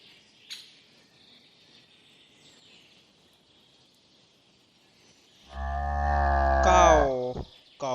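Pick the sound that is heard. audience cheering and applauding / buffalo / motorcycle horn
buffalo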